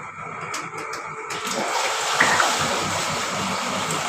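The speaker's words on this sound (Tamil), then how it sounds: "ஒரு இரநூறுலேருந்து இரநூத்தம்பது எம்எல்க்குள்ளே ஆயில் ஊற்ற போகிறோம்" Oil, 200 to 250 ml, pouring into a pot for chicken biryani: a steady close liquid gush rising after a brief start, continuous and alone.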